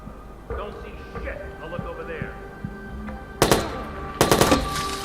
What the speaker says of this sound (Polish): Chyba usłyszeli strzały.